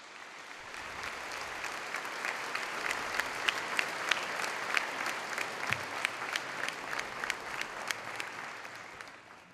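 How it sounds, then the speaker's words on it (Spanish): A church congregation at a Sunday Mass applauds, many hands clapping in a dense, sustained burst that swells and holds for several seconds, with no talking over it. "démosles nuestro reconocimiento con el aplauso"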